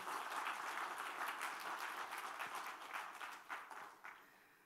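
A church congregation claps and applauds together in a steady, dense wash of clapping that thins toward the end, with no one speaking over it.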